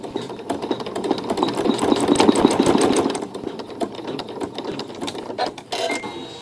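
Sewing machine stitching a tack down, a rapid mechanical chatter of needle strokes that swells louder midway, then eases into a lighter, uneven clatter with brief pauses.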